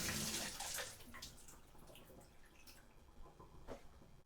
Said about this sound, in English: I'm gonna go ahead and turn this off so you can just see the water go down the drain